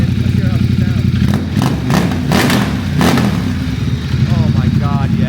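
A Ducati XDiavel with a clear clutch and Termignoni exhaust idles with a loud, rapid, lumpy throb, swelling through several sharp revs and dropping back, close by, while people talk over the engine.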